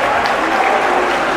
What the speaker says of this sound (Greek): οι οποίοι χειροκροτούν τους παίχτες τους